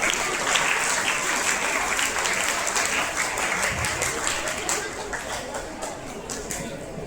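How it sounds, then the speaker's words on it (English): Dense applause from a large crowd at a school Janmashtami and Independence Day event fills the whole clip, steady and loud with a faint murmur of voices beneath it. "a huge round of applause"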